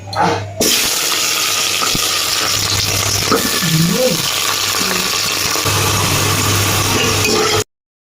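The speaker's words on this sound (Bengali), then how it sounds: "এইতেই মশলা কষাবো আর সবজিগুলো ভেজে নেব।" Capsicum and carrot frying in oil in a large pot, a steady loud hiss and sizzle with a low hum underneath, continuous for several seconds before cutting out briefly.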